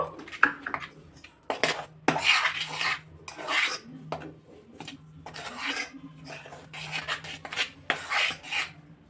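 A spoon scrapes and stirs fish fry batter in a bowl for Kolkata-style bhetki fish butter fry, with close, repeated bursts of rasping and clinking separated by short pauses.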